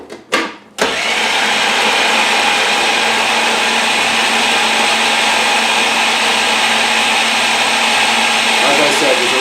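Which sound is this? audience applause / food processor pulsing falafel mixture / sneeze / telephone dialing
food processor pulsing falafel mixture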